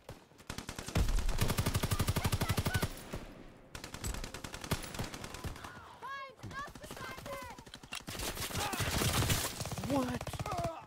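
Video game gunfire rattles in long rapid machine-gun bursts separated by short pauses, with voices and other game sounds mixed in.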